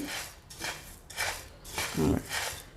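Coriander seeds dry-roasting in a pan for homemade garam masala, stirred in regular scraping strokes about twice a second, with the seeds rattling against the metal.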